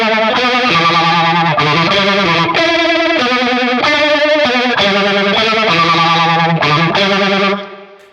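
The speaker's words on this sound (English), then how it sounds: "I start off with the phaser like that and switch to the pog halfway through." Electric guitar solo through a pedalboard, first colored by a sweeping phaser and then switched midway to a POG octave pedal, loud and distorted with a funky melodic line, playing alone for about seven seconds before cutting off.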